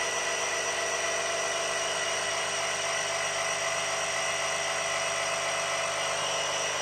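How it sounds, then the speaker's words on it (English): Electric air pump running steadily to inflate the airbag suspension on a 2019 Ram truck, a continuous buzzing whine held at an even level close by, with no talk. "Let's pump it up, let's see."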